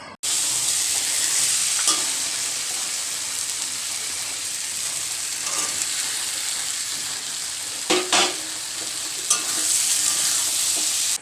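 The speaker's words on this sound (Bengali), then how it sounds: "সোয়াবিন ভাজা দিয়ে" Soybean chunks frying in hot oil in a home kitchen pan, a loud steady sizzle with a few scraping stirs of a spatula at intervals, close and continuous, no talking.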